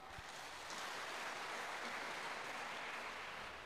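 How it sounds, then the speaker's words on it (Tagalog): A church congregation applauds during a Catholic sermon, a brief wash of dense, fairly faint clapping from many hands that swells and holds steady, heard from a distance. "Palakpak."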